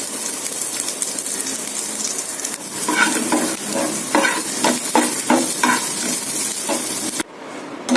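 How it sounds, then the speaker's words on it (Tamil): Green chillies, curry leaves and onion frying in oil give a loud, close sizzle broken by a run of rhythmic scraping stirs, then a sudden drop near the end before the hiss returns, with no speech. "பச்சை மிளகாய் போடுறேன் கருவேப்பிலை கொஞ்சம் போடுறேன் வெங்காயம் போடுறேன்"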